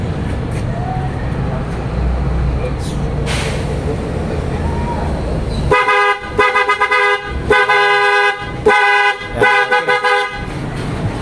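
Two pairs of PIAA OTO-style horns fitted to a Ford Ranger Raptor blare in several loud, close honks, some held and some cut short, beside a highway, following a stretch of road noise.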